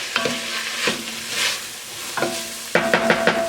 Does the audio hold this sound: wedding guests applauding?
no